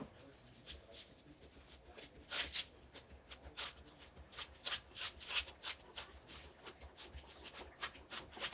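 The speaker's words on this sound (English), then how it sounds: "So I'm just going to oil the parchment paper." Parchment paper being oiled for a sourdough pizza crust, heard as close, dry rubbing and crinkling strokes in an irregular rhythm, repeated brushes and rustles with no talking.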